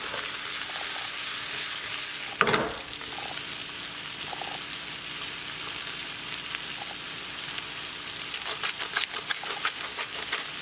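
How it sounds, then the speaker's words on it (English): Mushrooms and diced onion sauté in olive oil in a pan over medium heat, giving a steady close sizzle throughout with a brief louder burst of crackle and stirring early on. "I'm just gonna saute these veggies, coat the bottom of the pan with some olive oil"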